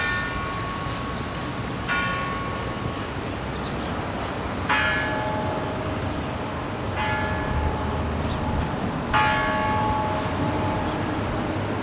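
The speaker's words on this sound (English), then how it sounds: "maybe if I'm quiet, you can hear the bells ringing at 1:30 the hour" Bells of a very old church ring out at 1:30, four separate strikes a couple of seconds apart, each a bright tolling tone decaying over a constant broadband outdoor hiss.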